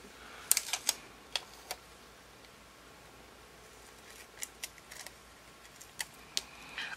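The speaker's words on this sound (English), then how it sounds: "So I'm going to cut this in half." Scissors snip through a planner sticker sheet, a handful of sharp, crisp clicks and cuts scattered in two bursts with a quiet pause between, close and alone.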